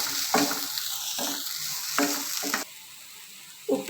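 Red spinach leaves sautéed over a low flame, soft sizzling with a few separate stirring scrapes spaced through a short stretch, close, then quieter toward the end.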